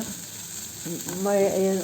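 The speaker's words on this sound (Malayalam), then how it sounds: "ബ്രൗൺ കളർ ആവണ വരെ ഒന്ന് വഴറ്റുക" Steady sizzling and hissing of onions sautéing in a pan until brown, with a brief voice heard near the end.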